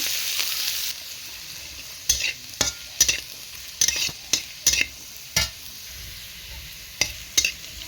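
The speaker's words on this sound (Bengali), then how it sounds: "গোটা গোটা রসুন ভালো করে ভেজে নেব" Whole garlic cloves fry in oil for a small-fish and jute-leaf dish, a constant hissing sizzle punctuated by repeated sharp scrapes and clacks of stirring, spaced irregularly.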